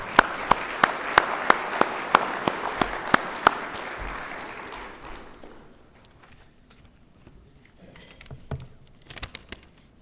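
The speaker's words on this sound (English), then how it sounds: "So just give a round of applause for the members and director of boards of Aviation Hall of Fame." Applause at the 2022 Tennessee Aviation Hall of Fame Gala: a banquet crowd claps steadily, with a few sharp nearby claps standing out. It fades to near silence about halfway through, then a few scattered claps follow.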